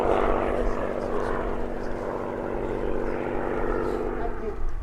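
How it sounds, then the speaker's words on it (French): A vintage P-51 Mustang propeller fighter drones overhead in a continuous, steady rumble with a low engine hum throughout. "Et le Mustang est piloté par Michael Potter, fondateur des ailes d'époque du Canada."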